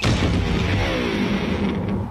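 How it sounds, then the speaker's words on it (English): An electric guitar is smashed with a loud, booming thud, and a resonant, droning string-and-body ring sustains and slowly decays over about two seconds. "An electric guitar."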